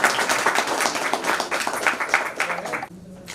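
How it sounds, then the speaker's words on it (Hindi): Loud applause from a crowd at a retirement farewell for a respected sir, steady dense clapping that stops abruptly near the end, leaving a quiet room. "सर का सर के लिए ये जोरदार ताली"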